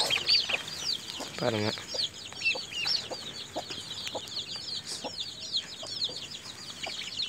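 Chirping incubator-hatched chicks peep constantly alongside a hen's low clucks at night, busy and close, with a brief spoken word partway through.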